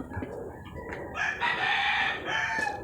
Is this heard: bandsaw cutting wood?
no